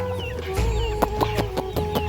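Free-range village chickens cluck in a series of short, sharp bursts as they are let out, fairly close and loud over a steady low background hum.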